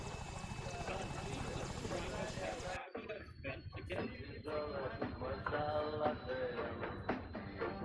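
A steady helicopter rotor and engine roar fills the cabin from inside, with music playing loudly over the constant drone throughout.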